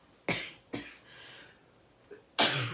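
Sharp coughing fits from a person who swallowed water down the wrong pipe: two quick harsh coughs, a short gasp, then a louder burst, close and with no talk.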